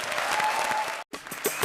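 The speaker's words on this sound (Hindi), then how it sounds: "जोरदार तालियां" Loud applause from a studio audience on a Hindi TV comedy show, a dense continuous burst of clapping that cuts out for an instant and then resumes just as strongly.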